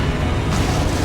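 A Confringo fire spell explodes in Hogwarts Legacy, a loud, dense burst of booming noise that fills the whole moment with no break.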